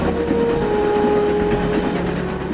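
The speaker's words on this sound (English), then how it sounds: "The train is now entering the next famous city" A passenger train travelling through Uzbekistan, with a steady loud rolling rumble and a sustained tonal whine running under it, close and continuous.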